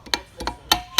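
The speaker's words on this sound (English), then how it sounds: "And just give her a couple little taps." Four or five light, sharp metallic taps strike a high-pressure fuel line on a Chevy Equinox 2.4 Ecotec engine, quick and close with ringing overtones.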